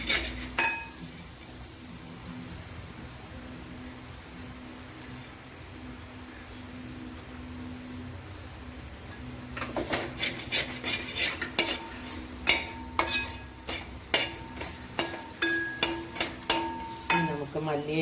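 A ground cashew, masala and pepper paste goes into a pot of prawn biryani and is stirred. After a steady low hum, a spoon scrapes and knocks against the pot in a quick, repeated rhythm that grows louder and stays close.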